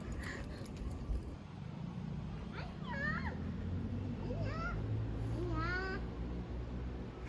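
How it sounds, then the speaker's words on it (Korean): A cat meows three times, drawn-out and wavering, against a steady outdoor hum with light background noise. "야옹이 어디가?"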